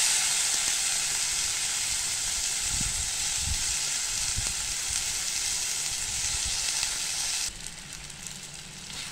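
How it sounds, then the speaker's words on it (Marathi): Chopped tomato frying in oil with masala for a potato bhaji, a steady loud sizzle with light stirring scrapes throughout, quieting briefly near the end. "आता आपण चिरलेला टोमॅटो टाकायचा"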